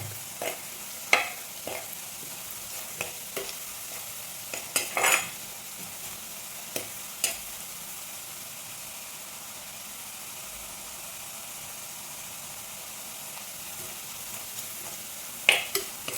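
Ginger and garlic frying in oil for a fish curry, giving a steady close sizzle broken by scattered clinks and scrapes of a spoon stirring the pan.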